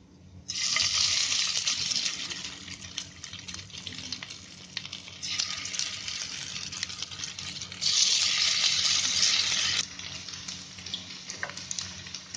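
Ivy gourd (tendli) pieces go into hot oil in a kadhai over a lowered flame, setting off a loud, steady sizzling hiss with surges and brief lulls, close by and without talk.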